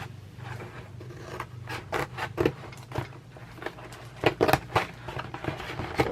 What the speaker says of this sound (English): So let's do that quickly just with some scissors